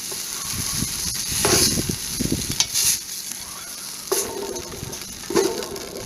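Steak and chopped onions sizzling in a cast iron camp oven, a continuous hiss of frying with intermittent scraping and stirring clatter from a utensil against the pot.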